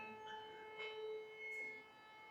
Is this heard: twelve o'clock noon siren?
yes